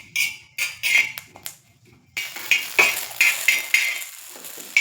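Green chillies roasting in a pan with a little coconut oil, a spoon scraping and clinking against the metal in short repeated strokes, close and fairly loud, with a brief pause before the stirring resumes.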